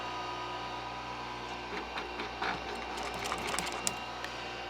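Sewing machine stitching fabric for a Model A Roadster interior, a faint steady mechanical hum with a short burst of rapid stitching clatter in the second half.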